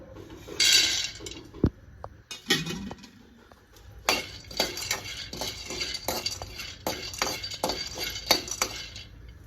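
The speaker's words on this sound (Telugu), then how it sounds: "స్టవ్ ఆన్ చేసుకొని ఒక బాండి పెట్టుకొని పల్లీలను కొబ్బరిని ఫ్రై చేసుకుందాం." Peanuts and dry coconut toss in a pan on a stove as a utensil repeatedly clinks and scrapes against the metal, a quiet, irregular series of taps and rattles.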